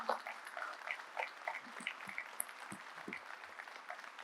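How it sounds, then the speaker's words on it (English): Scattered audience applause at an aerospace and defence forum in India, faint and distant, a light patter of clapping lasting a few seconds. "Please get up and give a great applause to all these people and the armed forces in the country."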